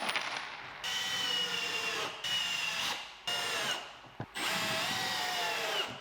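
A power drill drives screws through boards to join a pergola table top, several whirring bursts broken by short pauses, close and loud with no talking.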